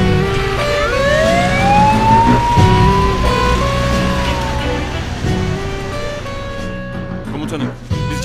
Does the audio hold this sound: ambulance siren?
yes